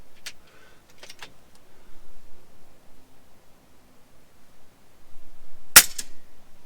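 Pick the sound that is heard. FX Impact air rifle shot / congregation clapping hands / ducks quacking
FX Impact air rifle shot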